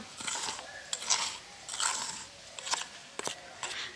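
Dry spices (turmeric and chili powder) and cauliflower are tossed together by hand, giving soft irregular crunchy rustles and scrapes in short bursts, close and fairly quiet, with no talk.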